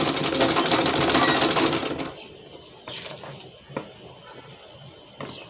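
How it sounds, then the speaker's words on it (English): A sewing machine stitching net fabric for a ruffle sleeve runs in a fast, close, steady whir for about two seconds, then stops, leaving quiet handling noises and a faint voice. "You make sure you stitch before sewing."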